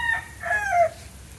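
A rooster crows once, a short close-up cock-a-doodle call with rising and falling tones over faint background noise.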